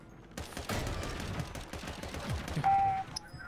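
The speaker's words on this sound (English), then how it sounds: "He shot from the hotel." Gunfire from the shooter game Warzone crackles in rapid, dense bursts, some sharp shots close by and others distant, with no one speaking.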